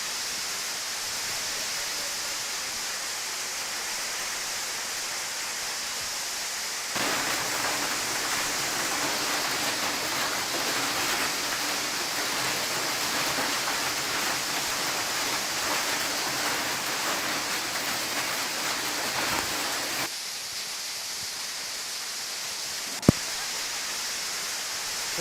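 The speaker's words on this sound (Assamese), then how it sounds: "ৰাজ্যত প্ৰচণ্ড শিলাবৃষ্টি ধুমুহা বৰষুণ" Heavy rain pours steadily during a hailstorm in Assam, a dense, loud broadband hiss that swells louder partway through and then drops back, with a single sharp knock near the end.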